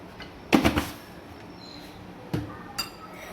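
A spoon clinks against a glass while sugar is added to a glass of lassi: a short cluster of bright taps up close, then two lighter, isolated clinks after a pause.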